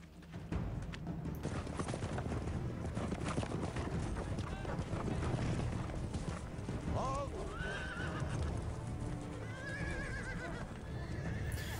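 Horses' hooves clip-clop steadily in a TV drama scene, joined by several whinnies and neighs, with voices talking over the galloping and outdoor wind.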